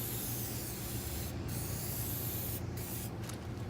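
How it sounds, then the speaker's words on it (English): Continuous aerosol spray of dye penetrant onto the surface of a weld for a nondestructive test, a steady close hiss running the whole time with brief dips, no talking. "So now we're gonna do a dye pen test. Dye penetrant on the surface of the weld."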